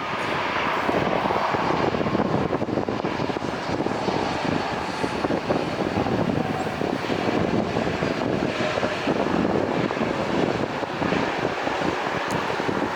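Jet airliner engines roar during reverse operations at LAX airport, a loud, steady, broadband rush with wind buffeting the microphone, sustained throughout with no talking.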